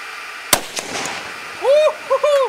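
A single sharp gunshot breaking a see-through Lexan suppressor at an outdoor range, a loud close crack followed by fading echoes and excited voices.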